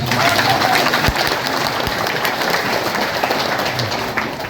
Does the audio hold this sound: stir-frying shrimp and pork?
no